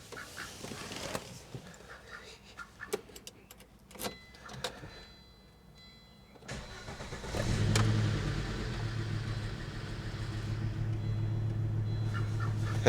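An old car that has been sitting, with ABS and service warning lights showing, cranks and then starts, settling into a steady low idle that rumbles close by after several sharp clicks and knocks.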